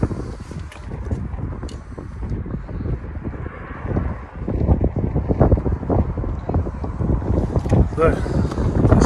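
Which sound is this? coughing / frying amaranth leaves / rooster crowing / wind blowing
wind blowing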